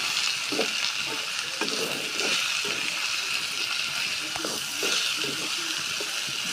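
Onions sizzle steadily in hot oil in a pan for a dried fish curry, with a continuous close hiss and scattered soft stirring scrapes, no talk.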